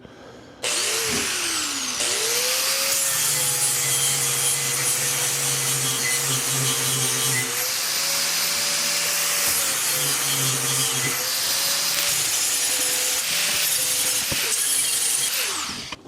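Power miter saw cutting a 45-degree bevel in wood, a loud sustained whine with the motor pitch dropping and rising as the blade bites through, lasting most of the clip up close with no voices.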